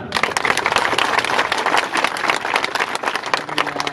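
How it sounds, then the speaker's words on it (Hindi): A crowd claps enthusiastically, dense and continuous applause that stays strong for the whole stretch, fairly close. "यदि मेरी बात आपको अच्छी लगी तो ताली बजाना।"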